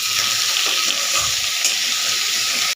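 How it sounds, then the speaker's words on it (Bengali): Diced potatoes hit hot oil in a kadai and set off a loud, steady sizzle that runs unbroken close to the pan before cutting off abruptly. "এবারে কড়াইতে তেল গরম করে এই আলুগুলো দিয়ে দেবো।"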